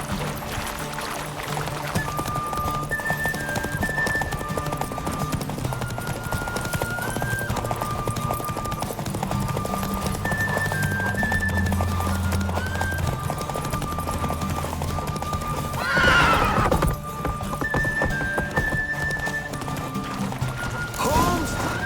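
Roach, the horse in The Witcher 3 game, sounds in steady clip-clopping hooves throughout under game music and ambience, with a brief loud snort or whinny about two-thirds through.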